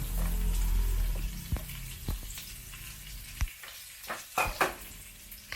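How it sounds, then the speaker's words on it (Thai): Baby corn and carrots stir-fried in oil in a pan with garlic, a steady sizzle at first, then a few sharp scraping and tossing knocks of the spatula at irregular intervals, close by with no talk. "ใส่ข้าวโพดอ่อน และแครอทลงไปผัดค่ะ"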